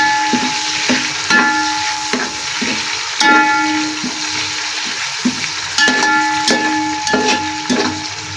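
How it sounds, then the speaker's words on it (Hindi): Green chillies and ginger garlic paste fry in a pan for tahari, giving a steady close sizzle with rhythmic stirring clinks and scrapes of a utensil throughout, no talking. "1 टेबल स्पून अदरक लहसुन का पेस्ट शामिल करूंगी और इसको हल्का सा फ्राई कर लेंगे"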